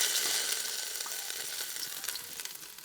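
Steady, bright sizzling of crushed garlic and ginger frying in hot coconut oil, continuous and close, with faint scraping from stirring.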